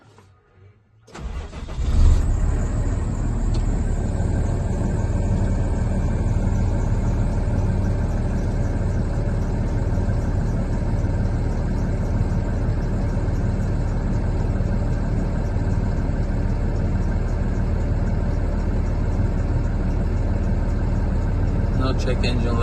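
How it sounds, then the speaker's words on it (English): A 2021 International MV 26-foot reefer box truck engine starts after a brief quiet moment, then settles into a loud, steady idle rumble that runs unbroken to the end. "Let's open the hood and see how the engine is running."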